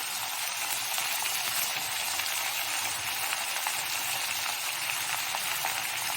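Half-cooked pumpkin spread out in a pan and cooking for kootu, a steady, even hiss of gentle frying that holds at a constant low level.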